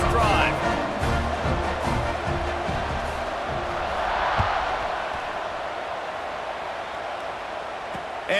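Football stadium crowd roaring steadily as the kickoff unit lines up on slippery, treacherous footing, a dense sustained wash of cheering that swells slightly mid-way and stays loud throughout.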